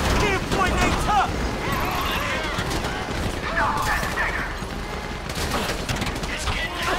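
Rapid bursts of gunfire crackle continuously in Grand Theft Auto V, a dense, loud shootout with voices talking over it.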